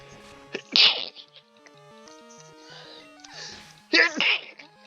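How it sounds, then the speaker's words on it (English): Two sharp sneezes, one early and one near the end, loud and close, with a steady electronic tone sequence playing underneath. "And I got 2 sneezes out"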